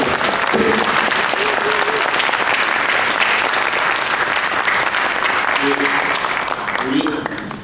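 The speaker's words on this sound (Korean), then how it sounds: "다시 한번 뜨거운 박수 부탁드립니다." Loud, sustained applause from a large audience, steady clapping filling the whole stretch without a break.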